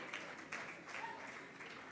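Applause at the Ecopreneur Awards ceremony in Kampala as the Urembo Africa Art Gallery team is honoured, faint, distant clapping from a crowd spread evenly through the moment, with a murmur of voices.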